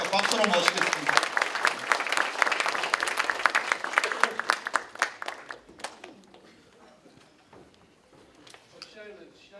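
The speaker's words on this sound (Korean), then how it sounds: "경북대 총장님 말씀은 잠깐이라도 드려야 되지 않겠습니까? 박수로 모시겠습니다." Audience applause at a university lecture hall in Daegu welcomes the Kyungpook National University president to speak, a dense burst of clapping that gradually thins out and fades over several seconds.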